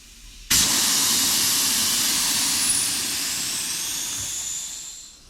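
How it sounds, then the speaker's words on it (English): Air rushes out of a fat bike tire during a tubeless conversion, starting as an abrupt, loud, steady hiss that holds strong and then eases slightly as it continues. No talking. "Okay, I'm gonna let the air out."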